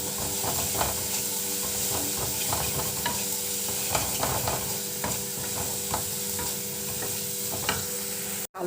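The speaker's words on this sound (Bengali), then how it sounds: "এখন বন্ধুরা মশলাটা ভাজা হয়ে গেছে, এবার তেল ছাড়ছে" Samosa masala sizzles in hot oil in a pan while it is stirred. A continuous frying hiss runs throughout, broken by regular scraping strokes of the spoon, close and clear, with no one speaking.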